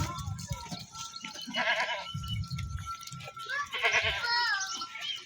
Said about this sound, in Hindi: ये बकरियां जो जंगल की तरफ जाती हुई आपको नज़र आ रही हैं।